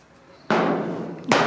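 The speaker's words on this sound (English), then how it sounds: "So you just get the hammer, give it little taps down and get it back down again." Two loud, close metallic strikes of a hammer tapping down high spots on a steel Ford Cortina TF body panel, about a second apart, each ringing briefly.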